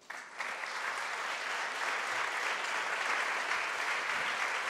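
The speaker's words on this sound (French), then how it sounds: "je vous demande de les applaudir" Sustained audience applause at a business conference talk, a dense wash of clapping that starts abruptly and holds steady at full strength throughout.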